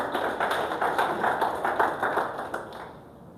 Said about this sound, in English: Let's clap for Mr. Obama right there.